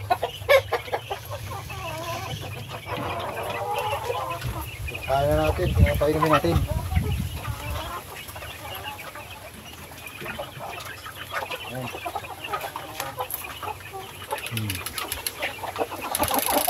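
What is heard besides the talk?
laying hens clucking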